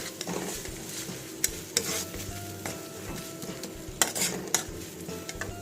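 Ginger-garlic paste frying with onion, bay leaf and garam masala in hot oil, a steady close sizzle with scattered sharp clinks and scrapes of a spoon against the pan.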